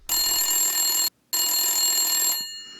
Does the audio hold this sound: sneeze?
no